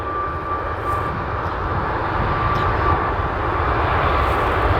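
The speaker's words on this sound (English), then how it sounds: "I don't know which aircraft just departed" Airplane departing Portland airport in fog, a steady broadband engine roar that stays loud and fairly close throughout, with a faint tonal hum running beneath it.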